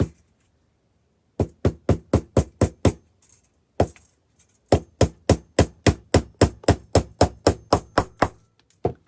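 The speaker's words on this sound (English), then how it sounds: "I'm going to see if I can just hammer." Hammer blows drive nails into a rustic wooden DIY bird house, a loud close run of sharp, evenly spaced knocks that pauses briefly and then resumes in a longer steady series, with no talking.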